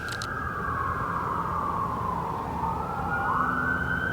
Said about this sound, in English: I feel like I've been hearing a lot more sirens lately all the time.